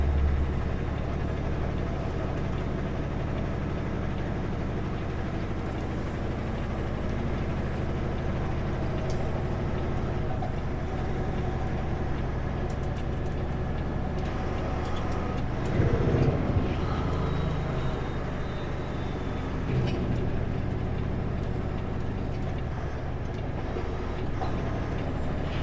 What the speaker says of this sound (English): There's a Sutco Super Bee climbing the hill, just crawling up.